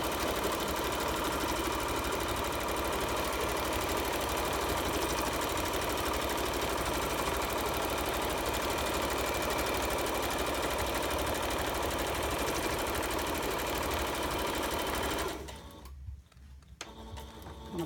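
A sewing machine stitches a cushion slipcover in one long, loud, unbroken drone up close, cutting out near the end to a brief quiet patch before resuming.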